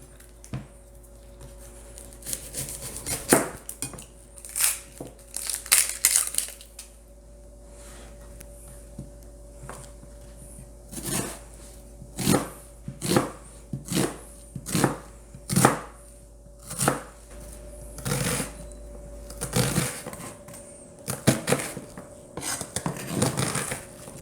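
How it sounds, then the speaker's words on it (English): Knife slicing onion and mushrooms on a cutting board for beef stroganoff, a run of crisp, close chopping taps in irregular rhythm, some quick bursts, with a steady low hum underneath. "I'm going to slice up my onion and my mushrooms so they're ready to go."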